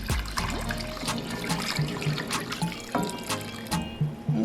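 Four cups of water poured into a cooking pot for ogbono soup, a steady splashing gush with rising gurgle as the pot fills, close and fairly loud, no talk.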